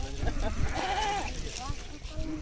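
Sheep in a nomad herd bleat in wavering calls over steady outdoor noise, while people talk nearby.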